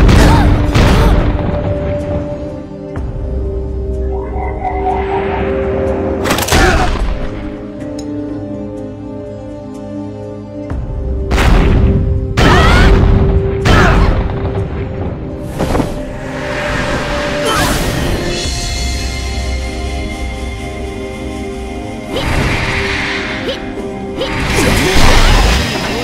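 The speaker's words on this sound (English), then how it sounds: "Commencing bombardment." An artillery bombardment in Atlantica Online brings repeated heavy crashing explosions and whooshes, loud and irregular, across a busy game soundscape with sustained tones between blasts.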